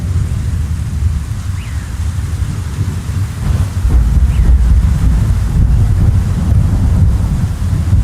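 Steady rain and gusting wind in a forest during a storm, a dense continuous roar that swells louder midway, with a couple of faint high chirps over it and no voices.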